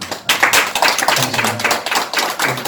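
An audience at a commemorative academic conference marking the 10th anniversary of the Iksan April 4 independence movement breaks into steady, fairly loud applause, with someone briefly speaking over it partway through.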